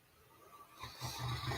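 A person snoring close by, faint at first and then a few louder, rough snoring breaths building toward the end, with no talking.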